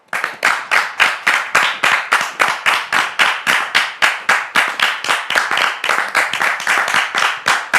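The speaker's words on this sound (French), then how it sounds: "Sous vos applaudissements." An audience in a French-language studio show welcomes a guest with loud rhythmic applause, a close, strongly pulsed clapping in an even beat that runs throughout without pause, no voices over it.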